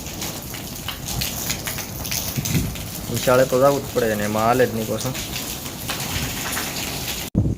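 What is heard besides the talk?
rain falling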